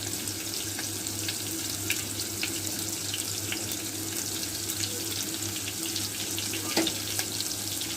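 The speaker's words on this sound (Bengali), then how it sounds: "জিরাটাকে একটা সাইডে ভেজে নেব" Whole cumin seeds fry in oil beside onion and green chilli, giving a continuous close sizzle with a faint steady hum underneath and no voices.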